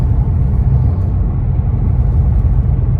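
A manual-transmission car cruising on the road, its low engine drone and road rumble steady and close from inside the cabin, with no talking.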